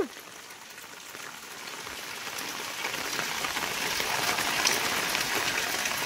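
Steady rain patters on a surface and an umbrella overhead during a walk outdoors, a continuous soft hiss that swells gradually louder with scattered droplet ticks and no talking.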